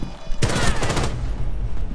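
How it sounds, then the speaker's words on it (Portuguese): Gunfire in the video game Rainbow Six Siege: a sharp, loud burst of rapid shots starts abruptly, rattles for about half a second, then trails into a muffled rumble. "Vai lá, dá uns tiros, dá uns tiros lá."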